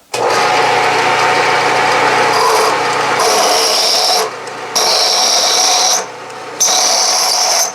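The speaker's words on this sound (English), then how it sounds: "I'm back to hole 1 with the finish size, which is 7/16, and I'll drill all 6 holes." A loud, steady drilling whine grinds into metal as a dull bit drills 7/16-inch holes in a bolt circle, pausing briefly a few times between bursts before starting up again.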